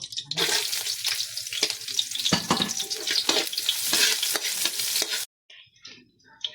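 Onion and garlic hit hot cooking oil for pinapaitan, giving a loud, bright sizzle with stirring scrapes that cuts off abruptly near the end, leaving only faint residual sounds.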